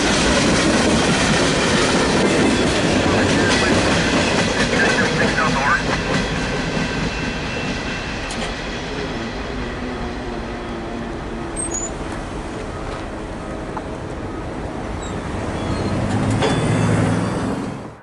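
A CP mixed freight train bound from Red Deer to Alyth, with ballast hoppers and gondolas near the rear, rumbles past loudly and continuously, wheels clattering as the roar eases midway and swells again at the end.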